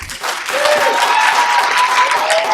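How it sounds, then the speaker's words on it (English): Dense, steady crowd applause rings out at an awards ceremony for a mathematics tournament at Albany State University, loud and continuous from start to finish with no speech over it. "Let's give everybody a big clap."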